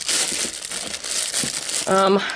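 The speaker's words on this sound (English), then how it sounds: "sorry for the crinkling" Plastic bag of leftover DK and worsted weight yarn scraps crinkles steadily in close handling, loud and continuous for about two seconds, with a short burst of a voice near the end.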